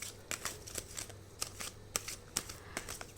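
Tarot cards are shuffled by hand in a steady run of soft riffling flicks and slaps, fairly close and moderately loud over a low background hum, with no voice over them.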